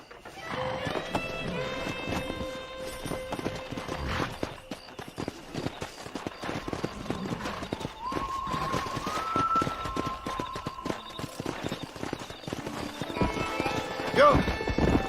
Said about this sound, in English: Let's see if we can't wrangle some horses.